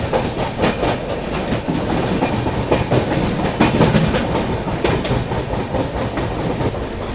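The 22412 Arunachal AC Superfast Express rolls along near Gonda Junction, steady loud rumble with rhythmic clickety-clack of wheels over rail joints, heard from on board without voices.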